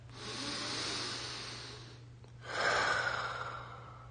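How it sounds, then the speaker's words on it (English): A person takes a slow, deep breath in through the nose, pauses, then lets it out through the mouth in a longer, airy exhale, close and soft, with no talk. "And then I usually take a deep breath."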